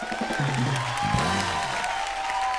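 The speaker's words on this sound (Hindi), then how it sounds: "जोरदार तालियां हो जाएं" Studio audience applause on a Hindi TV comedy show welcoming singing guests, a steady spread of clapping and light cheering under a sustained musical tone and brief voices.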